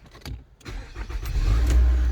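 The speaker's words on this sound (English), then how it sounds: "what you can do is you can start the car" A 2016 Nissan Altima engine cranks briefly with a few stuttering turns, then catches and settles into a steady, close low rumble.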